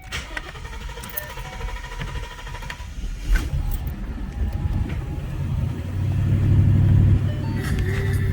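A car engine cranks and fires roughly right after a JLT Series 2 install, sputtering and choking at first before settling into a louder, steadier idle rumble, close to the microphone with no talk.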